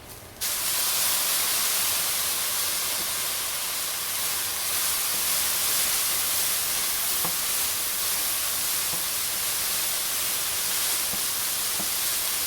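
Teriyaki sauce ladled into a hot pan of soy curls sets off a loud, steady hiss and sizzle that starts abruptly and keeps going unbroken.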